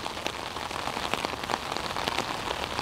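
Pouring rain falls on a flooded street, a dense steady patter of drops striking hard surfaces, close and continuous with no voices.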